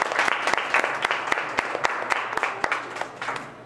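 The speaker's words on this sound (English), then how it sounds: "So give a round of applause for them." An audience applauds young spoken-word poets, a full, continuous round of clapping with a few louder individual claps standing out near the front.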